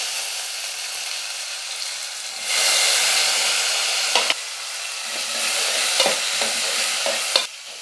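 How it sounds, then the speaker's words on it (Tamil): Onions sautéing for sambar sizzle steadily in a hot pan, close and fairly loud, the hiss swelling as the pan heats, with scattered stirring scrapes and a few sharp clinks of a spoon against the metal. "வெங்காயம் வந்து நல்லா வதங்கிட்டோம்"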